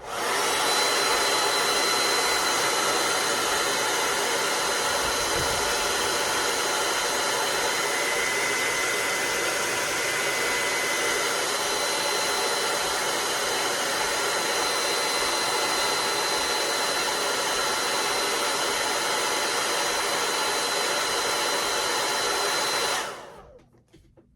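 A hair dryer blows hot air to heat plastic figure parts so they pop off, a loud, steady close-up roar of rushing air and motor hum running continuously before switching off at the end.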